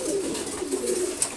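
Khaki pigeons coo in a low, steady, rolling murmur at close range during a morning feeding, with a faint scratch or click near the end and no talking.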